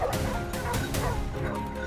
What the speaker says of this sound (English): The moment we heard fierce barking, the team rushed toward the source.